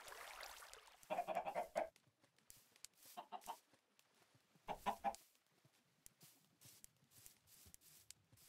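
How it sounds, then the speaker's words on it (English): Chickens beside a water puddle outdoors give quiet, scattered clucks in short bursts, faint and some distance off, with pauses of near-silence between calls. "he passed by some chickens in a water puddle and wandered over to them"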